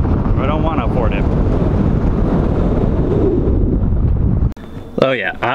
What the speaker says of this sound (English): I realize it is very windy right here